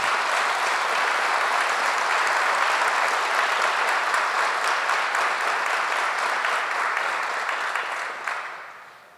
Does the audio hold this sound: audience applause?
yes